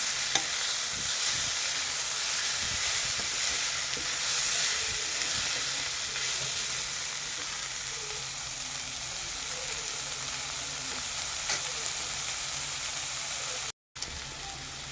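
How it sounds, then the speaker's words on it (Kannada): Onions salted for a dhaba-style paneer curry fry in a pan with a continuous, even sizzle and hiss, broken by occasional stirring scrapes and one brief dropout near the end. "ಚೆನ್ನಾಗಿ ಫ್ರೈ ಮಾಡ್ಕೊಳ್ಳಿ. ಈರುಳ್ಳಿ ಬೇಯಬೇಕಾದ್ರೆ ಸ್ವಲ್ಪ ನಾನು ಉಪ್ಪು ಹಾಕಿದ್ದೆ"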